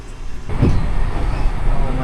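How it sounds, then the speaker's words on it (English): A tram rolls along a street in Osaka, a close, loud low rumble of wheels and motor building and holding steady, with some indistinct voice mixed in. "So the old tram line, eh?"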